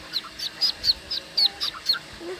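A rapid series of high, thin peeps, about ten evenly spaced chirps from small ducklings, close by with a faint background hum.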